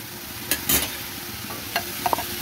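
Prawns go into a hot frying pan for a Bengali radish-and-prawn ghonto. A few short sizzling and scraping bursts stand out against a low, steady background, and a couple of quick clinks follow.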